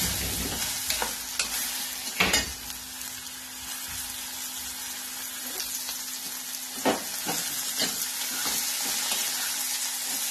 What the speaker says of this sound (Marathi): कारलं चांगलं भाजलेलं आहे.